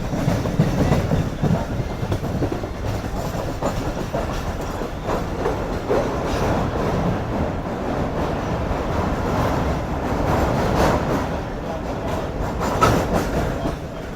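The Karakoram Express runs along the tracks in Pakistan, a steady loud rumble with continuous rattling clatter from wheels and carriages, heard up close from inside the train with no talking.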